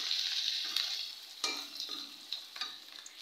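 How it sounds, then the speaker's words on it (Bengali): Onions fry in a pan for a magur fish bhuna, a steady bright sizzle with a few scraping stirs and knocks of the spatula against the pan, close and fairly soft, no talk. "এখানে আমি পেঁয়াজ ভেজে নিচ্ছি"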